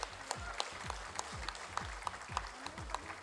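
An audience applauds at a spiritual discourse event, with a brief steady patter of clapping by many hands that is moderately faint and distant.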